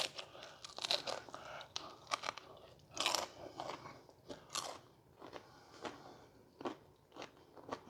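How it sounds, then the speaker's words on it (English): Crunchy bites into a fried egg roll wrapper pie with caramel apple filling, several sharp crackling crunches spread through close chewing, no talk. "Hear that crunch?"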